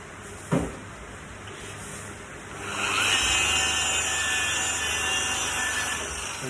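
A small, light polishing machine fitted with a lamb's wool pad works a surface, a steady close whir that grows louder and brighter partway through and then holds, with one sharp knock near the start.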